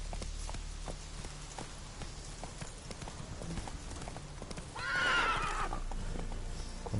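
Hoofbeats of a horse in The Witcher 3 video game, a steady clip-clop throughout, with a brief whinny rising over it midway; moderately faint and without talk.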